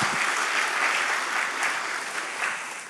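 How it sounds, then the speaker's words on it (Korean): A church congregation applauds the pastor in a short burst of dense, sustained clapping that tapers off slightly by the end. "우리 한번 목사님께도 한번 박수하겠습니다."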